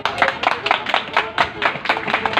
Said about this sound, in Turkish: Hadi bakalım kızlar, alkışlar nerede alkışlar?